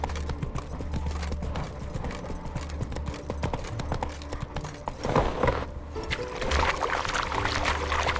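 Horse hooves clip-clop at a steady trot on a path in The Witcher 3, the mount Roach carrying its rider under a constant low ambient game soundscape, the rhythmic footfalls clear and moderately close throughout.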